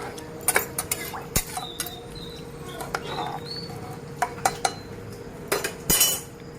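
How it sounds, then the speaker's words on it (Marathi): Clinks and scrapes of a spoon stirring moong and matki khichdi with water in a metal pressure cooker pot, irregular taps over a quiet background. "छान मिक्स करून घ्यायचं आहे पाणी टाकून पण"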